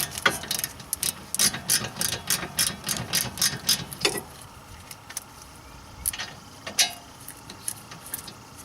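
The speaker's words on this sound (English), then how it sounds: "take your 7mm Allen, loosen both the slider bolts." A 7mm Allen socket on a ratchet loosening the rear brake caliper slider bolts of a BMW E36 3 Series, giving a run of quick metallic clicks for about four seconds, then a few scattered clicks and clinks.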